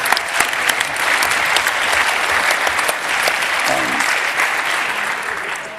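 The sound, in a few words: audience applause thanking Jens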